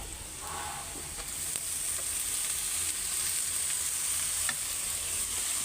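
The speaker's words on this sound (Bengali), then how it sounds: "মরিচগুলি লাল লাল করে ভাজা শেষ হয়ে গেছে তো শাকগুলি আমি এখন দিয়ে নিব" Spinach frying in a pan with dried red chillies and onion slices, a steady close sizzle with occasional stirring scrapes throughout, no talking.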